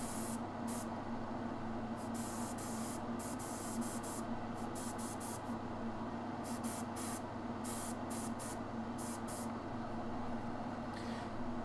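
An airbrush sprays thin coats of paint onto a Dark Eldar miniature, heard as repeated short hissing bursts of varying length over a steady low hum in a quiet room.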